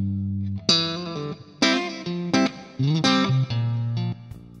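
An electric guitar played through Friedman 4x12 cabinet impulse responses rings out in a melodic phrase of sustained, bending notes with distortion and chorus-like effects, loud and alone.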